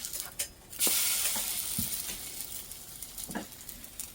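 French toast and eggs frying in a pan over reduced heat, with a continuous close sizzle that swells loudly as a piece is flipped, plus a few soft spatula taps and scrapes.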